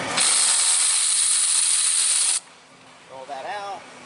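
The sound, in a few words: socket wrench breaking a bolt free on car exhaust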